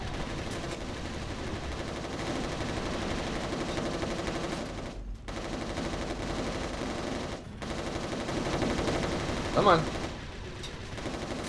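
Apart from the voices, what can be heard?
gunfire against Chimera in video game Resistance Retribution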